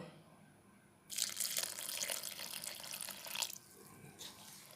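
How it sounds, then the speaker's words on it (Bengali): Lukewarm water poured from a container onto rice flour being kneaded with meat for pitha, a splashing gush that starts abruptly, runs about two and a half seconds, then tapers off with a brief trickle afterward, fairly close and without talk. "এবারে ওতে দিয়ে দেব হালকা গরম জল।"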